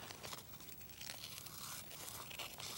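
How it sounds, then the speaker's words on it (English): Scissors snip through paper as circle shapes are cut for a kids' letter craft, a steady run of close, crisp crinkling and slicing with no talk. "remember to turn your paper and not your scissors"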